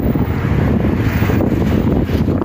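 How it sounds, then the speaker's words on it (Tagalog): Strong wind in Dubai's Deira City Centre area buffets the microphone in a steady, loud low roar with no break. "Malakas yung hangin dito sa Dia City Center."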